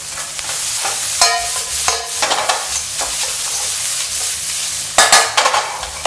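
Pickled mustard greens stir-fried in a wok over medium heat, with steady close sizzling under repeated scraping and tossing of the spatula, and sharper bursts of clatter as the greens are turned.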